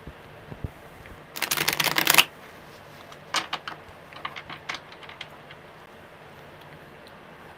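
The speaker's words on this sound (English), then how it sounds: "one more good shuffle, my bro." A deck of tarot cards is shuffled in one brisk, crisp riffle lasting about a second, followed by softer scattered taps and card flicks nearby, with no voices.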